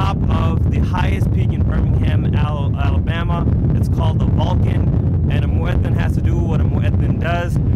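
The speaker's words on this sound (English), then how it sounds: "It's pretty windy." Gusty wind buffets the microphone in a constant low roar while a voice calls the adhan in long melodic phrases over it.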